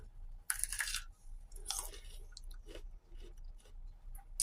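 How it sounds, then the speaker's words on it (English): Crunchy cold grapes from the fridge are bitten and chewed close up, with sharp crisp crunches followed by softer wet mastication sounds in a quiet room. "I love a crispy grape."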